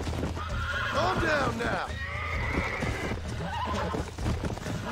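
A wild horse in Red Dead Redemption neighs and whinnies in loud, shrill sweeping cries over trampling hooves, while someone speaks to it over the commotion.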